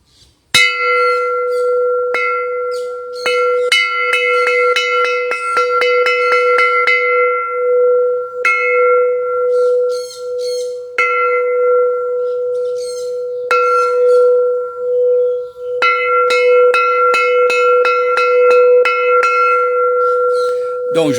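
A Buddhist temple bell in Isan, Thailand, struck over and over with a clear, sustained metallic tone. Rapid strikes come first, then slower, evenly spaced blows whose ringing hangs between hits, loud and alone.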